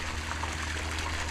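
Water from a garden hose pouring into a farm pond, a continuous close trickling splash with a steady low hum underneath and no talking.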